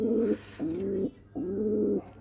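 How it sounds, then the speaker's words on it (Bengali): A pair of Giribaz pigeons cooing nearby, three clear, even, low coos in a steady rhythm with short pauses between, alone and fairly loud. "দেখুন কবুতর জোড়া অনেক সুন্দর, আমার স্পেশাল কবুতর"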